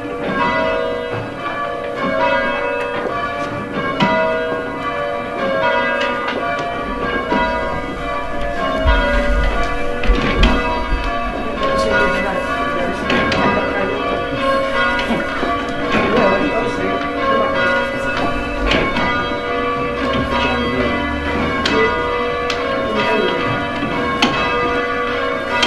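Church bells in the tower of St Peter's Church, Tiverton, are rung down, with repeated clanging strikes that run steadily for the whole passage, loud and resonant.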